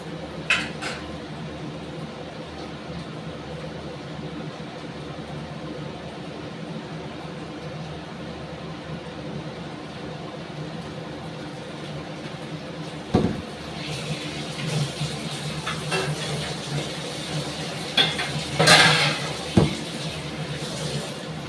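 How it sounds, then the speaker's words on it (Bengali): Chicken goes into a hot pan and gets stirred, with scattered scraping and clattering of utensil against cookware, a few sharp metallic knocks over a steady low background hiss, growing busier toward the end. "এর মধ্যে আমি চিকেনটা দিয়ে দেবো।"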